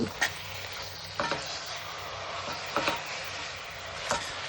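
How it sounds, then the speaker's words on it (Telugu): Washed sorrel (gongura) leaves dropped into softened onions in a pan, giving steady frying sizzle with a few soft stirring knocks and clatters at intervals. "ఇప్పుడు మనం ఆల్రెడీ కడిగి పెట్టుకున్న గోంగూర ఆకుల్ని ఈ మగ్గిన ఉల్లిపాయలలో వేసి"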